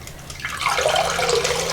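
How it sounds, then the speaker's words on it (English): Water draining from a sink after a sweater is soaked for blocking, a steady gurgling rush of water that rises in volume partway through and continues close by with no talking. "I'm gonna drain the sink"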